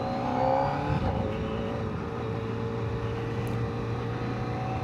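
A new 2025 Kawasaki ZX-4RR motorcycle engine pulls with a steady, fairly loud drone, a brief rise early on settling into an even, sustained note with layered harmonics and wind rush around it.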